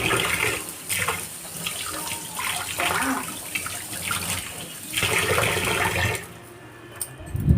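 Tap water runs steadily into a kitchen sink during handwashing, a broad splashing hiss with small surges that stops abruptly near the end, leaving a few faint clinks.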